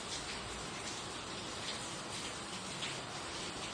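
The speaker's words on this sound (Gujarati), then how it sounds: "વરસાદ તો હવે શરૂ જ રહેવાનો છે" Steady rain pours down in a village, a dense, even hiss of drops close around with no pauses and no voices.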